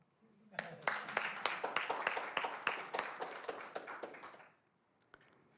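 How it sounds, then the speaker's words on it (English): Scattered, distinct claps build into a brief round of applause for supporters of Israel at a solidarity gathering, individual hand strikes audible within the patter before it fades out near the end. "I want to give you a round of applause."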